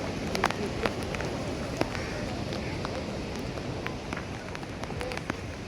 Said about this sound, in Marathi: खूप जोरदार असा पाऊस येतो आहे इथे